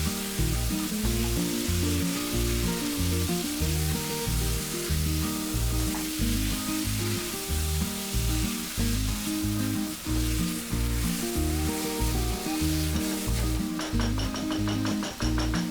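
Chicken pieces with turmeric and stock cubes fry and get stirred in a pan for a curry leaf chicken curry, a continuous sizzle running under loud, rhythmic background music.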